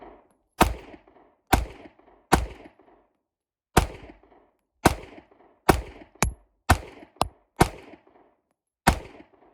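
An HK CC9 pistol is fired at a target about ten times, each sharp crack standing alone and followed by a short echo, with uneven gaps between shots and quiet in between.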